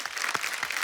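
A studio audience on a comedy show breaks into a short burst of applause, a brief dense clatter of clapping lasting under a second.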